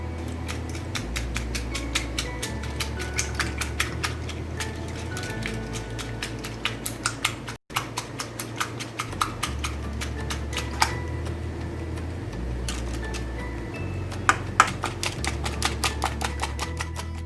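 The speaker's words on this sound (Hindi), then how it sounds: "1 घंटा हमने लिया है और इसको हम अच्छी तरह बीट कर लेंगे।" Milk-solid mixture being beaten for rasmalai patties, giving a steady run of rapid, sharp ticking and tapping strokes over a low humming drone, close and moderately quiet, with a short break midway.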